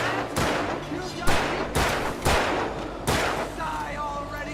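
Gunfire from the video game Alan Wake Remastered: five loud, booming shots spaced about a second apart, each ringing out over a steady rumbling game background.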